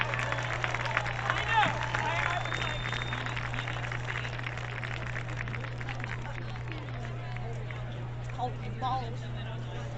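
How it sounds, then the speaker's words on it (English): A high school senior night crowd cheers and applauds for the cheerleaders, a distant, diffuse roar of clapping and voices over a steady hum, with a PA voice speaking at times. "Heritage fans, let's give a cheer to the people who cheer for us,"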